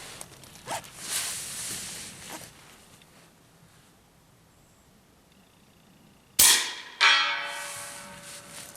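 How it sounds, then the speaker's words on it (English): Suppressed rifle shots fired with subsonic and supersonic ammunition at 100 yards outdoors: a few soft muffled reports early on, then two sharp, loud cracks near the end, each followed by a ringing decay. "Listen to the difference between suppressed with supersonic and suppressed with subsonic."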